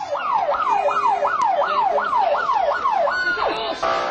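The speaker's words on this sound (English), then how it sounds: "an ambulance appears as if on cue." A loud wailing ambulance siren sweeps up and down in rapid repeated cycles, close by, then shifts to a different tone at the end.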